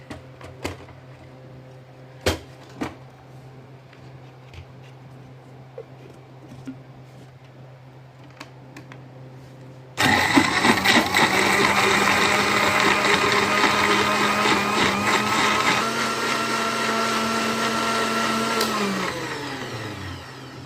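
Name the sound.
blender blending orange and lemon slices for lemonade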